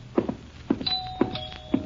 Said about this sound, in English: I answered the doorbell, madam.